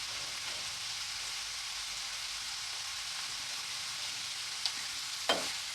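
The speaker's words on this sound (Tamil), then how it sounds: "வாழைத்தண்டு சேர்த்து நல்லா குக் பண்ணிக்கலாம்." Banana stem stir-fries in a pan with a faint, steady sizzle, broken by a couple of soft clinks and scrapes of stirring near the end.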